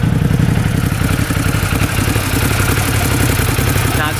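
UTV engine running at a steady idle, a loud, close mechanical rumble with rapid regular pulsing and light clatter, continuous with no revving.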